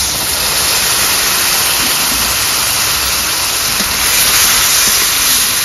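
Onion frying in hot oil as garlic paste goes in while a chicken curry is prepared, a loud, steady broadband sizzle and hiss that runs unbroken throughout.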